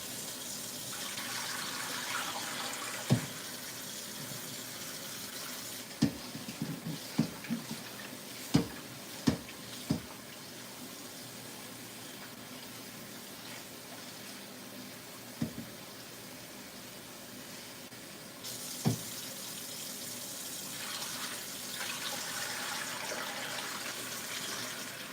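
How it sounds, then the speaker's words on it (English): Kitchen tap water runs steadily over shrimp being washed in a sink, a soft continuous splash broken by a few light knocks and clatters, with no talking. "last thing you gotta do, wash them"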